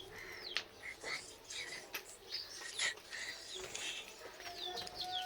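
Domestic pigeons in a loft with chicks, several coos and chirps mixed with brief wing flutters, fairly close and moderately loud over steady background noise.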